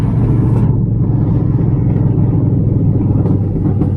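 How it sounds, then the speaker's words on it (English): A budget-build car engine rumbles loudly and steadily up close during a downshift, with a deep continuous exhaust drone. "What happens when I downshift?"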